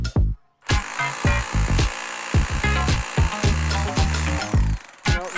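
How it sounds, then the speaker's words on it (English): A rotary hammer drill bores into a tree root in the ground while installing a grounding rod, giving repeated bursts of grinding, hammering noise separated by short pauses. "Try that hammer drill again."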